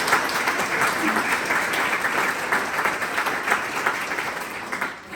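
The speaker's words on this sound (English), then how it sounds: "So just give Emma and SEN Reform team a round of applause, please." Steady, full audience applause rings out at an event in Stormont, dense and continuous clapping from a large crowd lasting throughout without letting up.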